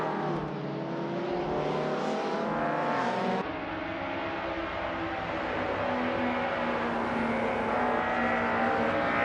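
Race cars in a video game racing and overtaking, engines droning and whining loudly and continuously, the pitch shifting as the cars accelerate and pass, with no talk.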